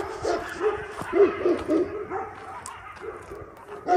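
Guard dogs bark and yip excitedly at coyotes nearby, a rapid run of close, loud barks with short gaps, some whimpering and a voice faintly mixed in.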